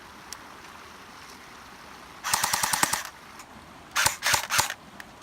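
A CYMA CM048 AK-74 airsoft rifle on a 7.4 volt 2600 mAh battery fires two short fully automatic bursts, rapid mechanical rattling shots up close with a brief pause between them, no talking.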